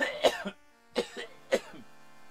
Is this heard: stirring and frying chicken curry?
no